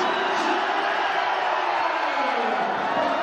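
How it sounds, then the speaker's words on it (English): A packed basketball arena crowd at an MPBL game roars steadily and loudly after back-to-back slam dunks, a dense, continuous wall of cheering with no breaks. "And now the crowd is very much alive."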